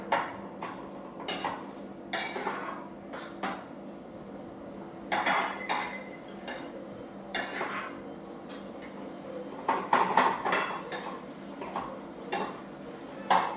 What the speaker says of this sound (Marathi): त्याच्यामध्ये मस्त खवा आणि भोपळ्याचा मस्त एकजीव करून घ्यायचा छान.